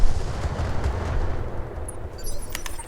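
Mech weapons firing in the Battletech Roguetech mod, a dense rumbling barrage of heavy booms and thuds rolling continuously, with a few sharper cracks near the end.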